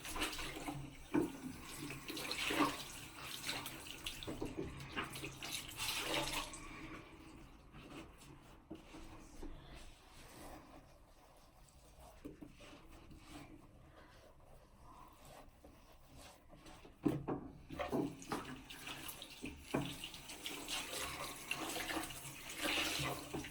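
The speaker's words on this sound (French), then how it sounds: "Alors maintenant, donc, je vais me rincer le visage." Bathroom tap water running steadily into a sink while a face is rinsed, close and moderate in loudness, with splashing that softens midway and then picks up again.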